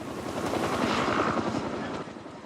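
A firefighting helicopter's rotor thumps steadily and loudly overhead during a wildfire, a continuous rapid chopping beat.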